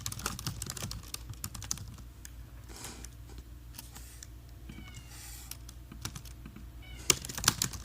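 Keys clatter steadily as code is typed on a computer keyboard, with rapid irregular clicks throughout and a cat meowing briefly in the background near the end.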